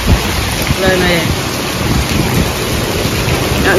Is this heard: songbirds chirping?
no